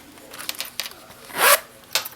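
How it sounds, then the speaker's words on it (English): A zipper on a leather wristlet clutch is pulled shut in one quick close-up zip, preceded by a few light taps and rustles of handling. "Zipper shut."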